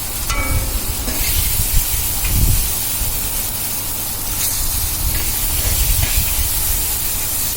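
Water added to a hot pan of fish curry base, setting off a loud, sustained steam hiss and spray that holds steady for several seconds, with no talking.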